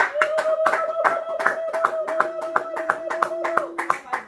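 Church congregation applauding together in a lively burst of hand claps, steady and dense throughout, with a sustained sung or voiced tone running beneath.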